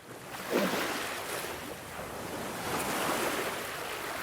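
Sea waves wash and roar in a continuous broad hiss, swelling gently and mixed with wind, with no voices heard.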